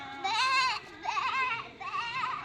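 A voice imitates a goat, giving three drawn-out wavering bleats in a row, close and clear.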